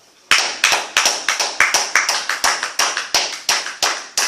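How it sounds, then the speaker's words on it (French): A church congregation claps in a quick, steady rhythm, sharp distinct hand claps repeating several times a second, loud and close. "acclame ce Jésus-là pour toi-même"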